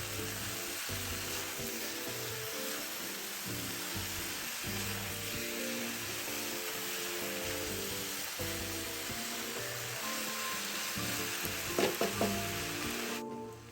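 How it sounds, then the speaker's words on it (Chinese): Fried potato slices are stir-fried in a wok, a steady close sizzle with scraping and tossing throughout and a couple of louder clanks near the end. "最后再将油煎后的马铃薯片加入，拌炒均匀后即可熄火"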